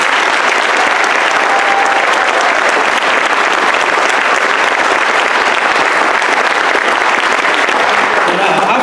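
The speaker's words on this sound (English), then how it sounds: "So give the Scotty Band a big round of applause." Audience at a high school band concert applauds the school band, a dense, loud, sustained burst of clapping with some cheering mixed in.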